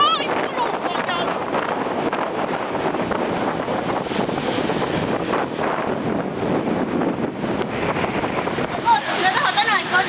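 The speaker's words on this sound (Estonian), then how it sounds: "See tuul oli nii kõva" Strong wind blows across a sandy beach, buffeting the microphone with a loud, continuous roar that never lets up.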